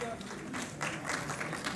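A crowd at a PTI lawyer convention claps together, a brief burst of dense applause with voices mixed in throughout.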